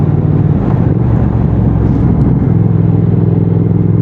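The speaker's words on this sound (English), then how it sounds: "You can throttle blip this bike lovely on the downshifts as well." Triumph Speed Twin 1200 parallel-twin motorcycle engine running loud and close, a steady deep exhaust rumble with slight rises in revs as the throttle is blipped during downshifts.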